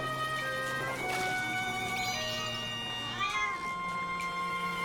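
A cartoonish cat meows several times in the video game Zelda: Echoes of Wisdom, with tonal, pitch-bending cries layered over steady game music.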